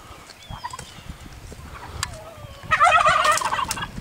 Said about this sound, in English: These are turkeys, American Heritage Bourbon Red Turkeys.